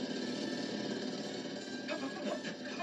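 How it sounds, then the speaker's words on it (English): Cartoon jackhammer that a character mistakes for an automatic pogo stick, a continuous, fairly loud rattling hammer that keeps up without pause across the whole stretch. "Pogo stick? This is a jackhammer."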